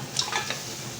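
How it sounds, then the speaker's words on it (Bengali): Spice masala frying in a pan, a soft sizzle with a few light stirring scrapes near the start, quiet and close. "মশলা ভালো করে কষিয়ে নিয়েছি"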